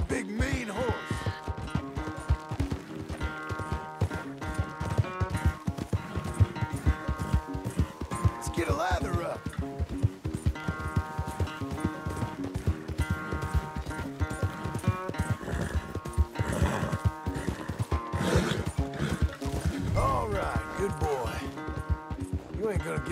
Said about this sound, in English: Where's that big, mean horse?